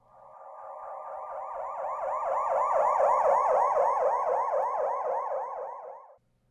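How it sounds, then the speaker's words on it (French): A wailing emergency siren swells as it approaches and then fades, its cycling tone shifting in pitch with the Doppler effect, heard alone and loud at its peak before cutting off. "le son d'une sirène qui devient plus aigu quand l'objet s'approche et qui retombe vers les sons graves quand l'objet s'éloigne"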